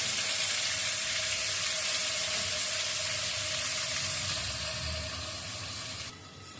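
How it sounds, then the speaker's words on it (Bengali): Potato pieces fry in hot oil in a home kitchen, a loud, close, continuous crackling sizzle that holds steady before easing slightly at the end. "আলুগুলো ছেড়ে দিচ্ছি, আলুগুলো ভেজে নিই।"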